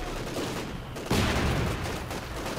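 Machine gun fire in the World War II strategy game Company of Heroes 2, a dense, continuous rattle of rapid shots that jumps louder partway through, with no talk over it.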